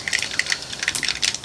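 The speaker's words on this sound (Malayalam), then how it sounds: "കടുക് പൊട്ടി കഴിഞ്ഞിട്ടുണ്ടെങ്കിൽ അപ്പോൾ പൊട്ടുണ്ട്" Mustard seeds pop in hot coconut oil for a Kerala fish curry, a rapid scatter of small sharp crackles and ticks close up, irregular and continuous.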